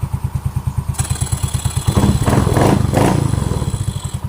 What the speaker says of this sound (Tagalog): Ayan, tahimik na yung makina